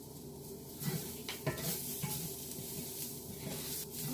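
Feijoada mixture bubbles and sizzles gently in a pan as it cooks down, with a soft continuous crackle, quiet and close, and a few scrapes and clinks of stirring, and no one talking.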